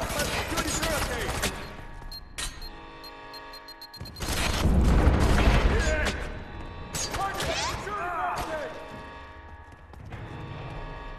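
Heavy gunfire in the video game Fear 3: dense bursts of shots, blasts and crashing impacts come in waves over several seconds, with shouting voices and radio chatter layered over the fighting.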